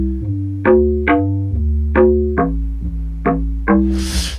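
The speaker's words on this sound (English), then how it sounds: "so the chorus bass sounds like this." A log drum bass plays a chorus bass line of punchy, deep plucked notes in a bouncing rhythm, each with a short thud and a tuned tone, loud and alone, ending on a burst of noise.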